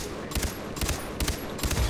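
Rapid bursts of gunfire in the shooter game Far Cry 3, three short loud volleys evenly spaced over a steady background bed.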